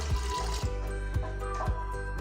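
Water poured into a pressure cooker holding chickpeas, a steady trickling pour running throughout with faint rhythmic low thumps underneath.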